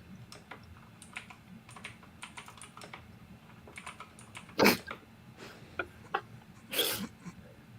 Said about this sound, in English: that's some loud typing